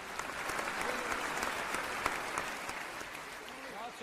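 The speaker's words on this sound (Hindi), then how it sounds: "तालियां बजाइए बच्चे के लिए," An audience claps for a child's painting, steady broad applause filling the whole stretch with faint voices mixed underneath.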